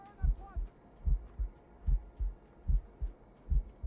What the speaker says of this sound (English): Keeps my heart beating.